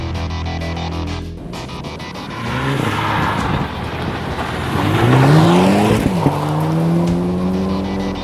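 A Mini Cooper S Oxford Edition with a 2-liter turbo engine drives on a road, its engine rising and falling in pitch through gear changes, loud and close from inside, steady road and tire noise underneath.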